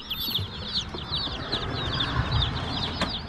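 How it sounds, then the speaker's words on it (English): Broiler chicks packed in a brooder box, close and busy, with many rapid high peeping chirps overlapping continuously over a soft rustling background. "We have chicks."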